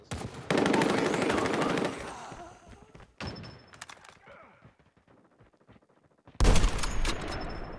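Gunfire in the mobile shooter COD Mobile: a sustained rapid burst of automatic shots, then a sharper single report and sparse thuds, followed by another loud burst at the end.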